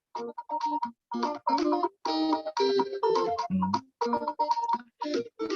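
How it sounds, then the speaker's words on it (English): Benga music plays in choppy, bright bursts of plucked guitar-like tones and melody, moderately loud with short gaps between phrases. "So this is proper Benga."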